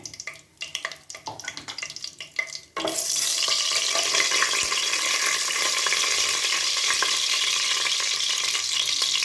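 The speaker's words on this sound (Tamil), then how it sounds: "நெய் நல்லா காஞ்சிட்டு இந்த பிரியாணி இலையை போட்டுக்கோம்." Bay leaf, cinnamon, cardamom and star anise hit hot ghee for tomato rice: a few clinks and light stirring, then a sudden loud, steady sizzle and crackle that fills the pan and holds without pause.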